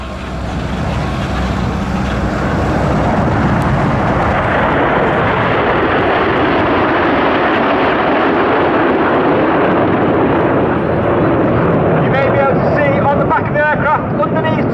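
Loud, continuous jet roar from a Red Arrows aerobatic display at Cosford Air Show, a broad rushing thunder that swells and holds throughout, with a crowd or announcer voice faintly underneath.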